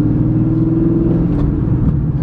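A car engine fitted with Pacesetter long tube headers and an H pipe revs loud and close, a deep rumbling exhaust that holds steady and then rises briefly.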